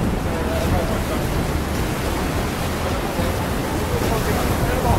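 Ocean surf at the Twelve Apostles rock stacks gives a loud, continuous roar of breaking waves, thick with wind buffeting the microphone. Voices talk over it now and then.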